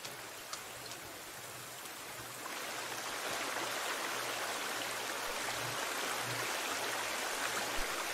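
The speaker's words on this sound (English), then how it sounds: "I'm by the waterfall." A steady rush of falling water from a waterfall in the video game The Forest fills the scene, growing a bit louder partway through, with a faint low hum underneath.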